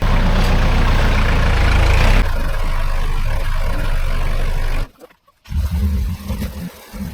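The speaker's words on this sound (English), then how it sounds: "We're gonna use the tractor, lift the bike up the back and see if I can replicate that sound without having to drive." A Yamaha Tenere 700 motorcycle, its rear raised by a tractor, runs with its engine going. A loud, steady mechanical drone eases in level after about two seconds, cuts out briefly, then returns in uneven bursts.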